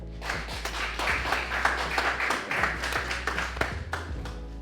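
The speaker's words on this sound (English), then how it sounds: "So go ahead and clap it up for Kyle Mack." An audience applauds steadily, a dense patter of many hands clapping together at an even level for several seconds.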